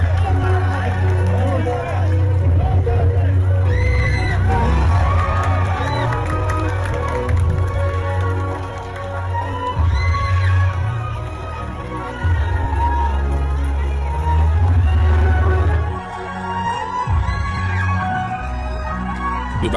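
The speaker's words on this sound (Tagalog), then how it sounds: "Kitang-kita mo yung hiyawan ng taong bayan na hindi plastic" A loud crowd at a Philippine political rally cheers and shouts continuously, with clapping and babble mixed in under a deep, booming sound system, a short dip near the end before the roar resumes.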